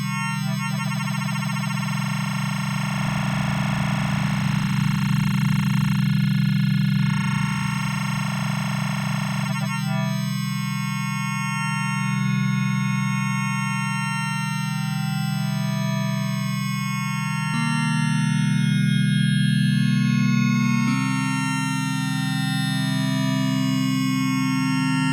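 Sustained, distorted wavetable synthesizer drone on a Deluge with LFO modulation, a thick low hum and shimmering, shifting upper layers that swell and change pitch over time, no voices.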